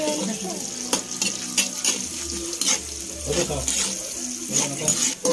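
Pork adobo with oyster sauce sizzling in a pan as it is stirred, with scraping clatter of the utensil against the cookware, intermittent frying hiss and people chatting nearby.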